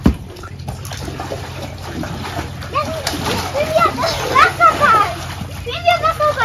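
Children splash and play in a swimming pool, water slapping and sloshing nearby as excited young voices shout and chatter over it.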